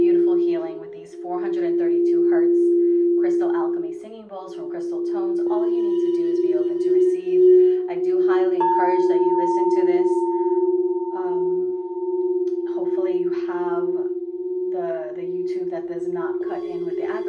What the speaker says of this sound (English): beautiful healing with these 432 hertz crystal alchemy singing bowls from Crystal Tones